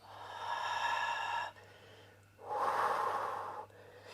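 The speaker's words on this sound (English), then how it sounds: "Take a deep breath in and a deep breath out." Two slow, deep breaths during a yoga plank, each a long airy exhale lasting over a second, separated by a brief pause, close and fairly soft.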